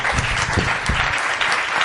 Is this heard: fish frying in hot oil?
no